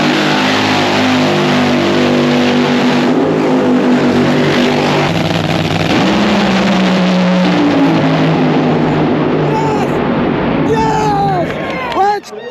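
A drag race car launches and accelerates hard at a drag racing event. A loud, sustained engine roar fills the clip with crowd noise and voices around it, then cuts off sharply at the end.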